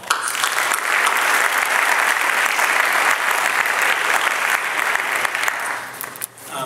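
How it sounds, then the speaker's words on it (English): Theater audience at a political forum gives a big round of applause for four candidates, a dense, sustained roar of clapping that holds steady and tapers slightly near the end. "So let's give the 4 candidates a big round of applause."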